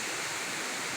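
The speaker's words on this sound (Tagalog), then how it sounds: "Hulugan Falls" Hulugan Falls, a waterfall running low in the dry season, roars as a steady, broadband rush of falling water, close and constant with no voices over it.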